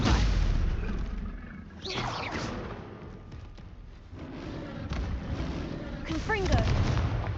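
Rough, booming spell blasts from Hogwarts Legacy combat go off repeatedly amid constant battle noise, with a couple of sharper bursts standing out, loud and close.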